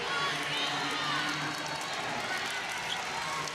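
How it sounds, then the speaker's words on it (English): A basketball crowd at a boys Class B state game applauds a player's hustle, a steady wash of clapping and cheering filling the gym under an announcer's voice. "James Miles getting an applause for his effort trying to run down that rebound"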